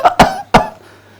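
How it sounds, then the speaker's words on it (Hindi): Three loud, close coughs in quick succession from one person, the last trailing off into quiet room hum. "खांसने लगा"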